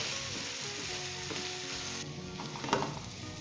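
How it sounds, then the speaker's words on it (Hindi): Chicken with turmeric, spices and fried onion sizzles steadily in a pan for haldi murgh, a loud continuous frying hiss with a stirring scrape near the end. "और दोस्तों इसे दोबारा 2 से 3 मिनट अच्छे तरीके से हम भुनेंगे।"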